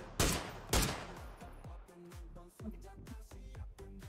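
Gunfire in the video game PUBG during a live match: a couple of loud close shots open, then a rapid burst of repeated automatic fire follows, with game sounds underneath.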